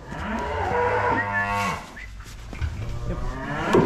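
Cows being moved out of a muddy area onto dry ground low loudly and continuously, several overlapping moos close by with no talk.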